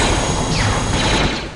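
Turrets firing in Star Wars Jedi Outcast, heard as a loud, dense stream of rapid blaster shots and mechanical clatter that runs without a break and fades slightly at the end.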